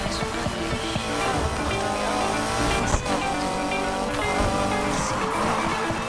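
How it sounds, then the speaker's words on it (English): Racing car drifting with squealing tires in the Need for Speed Heat video game, a steady loud engine roar with a sustained screech and game music throughout, a brief sharp accent near the middle. "Textbook drift."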